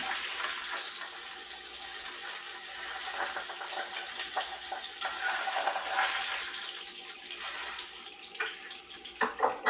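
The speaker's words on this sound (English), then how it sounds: "So I'm just going to go over to the sink, pour some of this off." Cooking oil from pan-frying trout fillets is poured off into a sink outdoors, a steady watery splashing and trickling with a few louder spatters near the end, no one talking.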